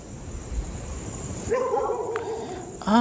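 A dog lets out a drawn-out, whining yelp that rises and falls, then a sharp bark at the end, over steady background noise at a resort in Pagudpud during a typhoon.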